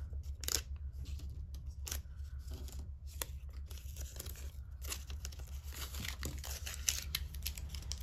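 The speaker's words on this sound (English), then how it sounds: "we're going to gently remove our letters from our tape" Craft letters peeled carefully off tape, a steady run of crisp tearing and crinkling close by over a constant low hum, with sharp rips scattered throughout.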